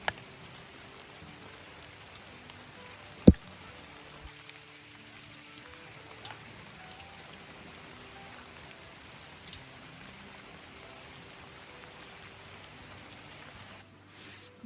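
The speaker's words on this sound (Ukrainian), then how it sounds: "Дощ це прям прекрасно." Steady rain falls, a soft, even hiss that runs for the whole stretch, broken by a few sharper drip hits, faint and without voices.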